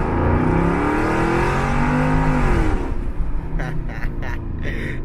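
A Porsche Cayenne S SUV with a modified exhaust revs up and down with a loud, deep, brassy exhaust note for about three seconds, then settles into a rumbling idle with a few sharp crackles.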